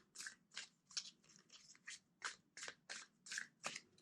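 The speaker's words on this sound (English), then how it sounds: "Two more shuffles." Deck of tarot cards being shuffled by hand, about a dozen quick, quiet papery bursts in a steady rhythm, close and faint with no talking.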